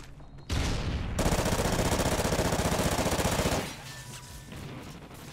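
A gun in Call of Duty: Ghosts fires a loud, rapid automatic burst for about three seconds, then stops abruptly and leaves faint background game noise.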